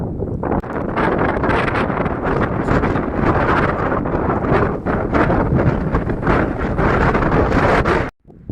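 Strong winter wind at Þingvellir, Iceland, buffets the microphone with constant loud rumbling and gusting roar for several seconds, cutting out briefly at the end.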